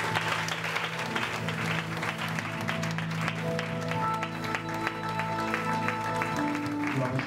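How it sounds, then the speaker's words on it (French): A church congregation applauding and cheering together, sustained loud clapping from a crowd throughout, with voices and musical tones underneath. "Quelqu'un acclame Jésus?"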